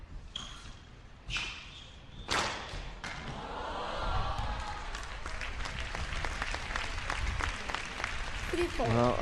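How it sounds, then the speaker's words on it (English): Enthusiastic applause from a capacity crowd at a women's squash final at Seoul Plaza, rising from a few scattered claps into sustained, dense clapping that fills the space. "that's getting really enthusiastic applause from this capacity crowd in the Seoul Plaza"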